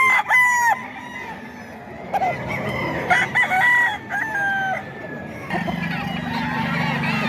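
Roosters crowing and hens clucking at a live-chicken market in Bocaue, with several harmonic crows spread across the clip over a busy crowd murmur and a steady low hum.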